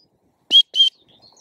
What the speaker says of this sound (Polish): to mu dajecie tym gwizdeczkiem bardzo, bardzo cichutką komendę